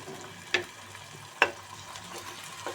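Onion leaves with green chillies, onion and garlic frying in a pan, a quiet steady sizzle broken by a few sharp scrapes of stirring.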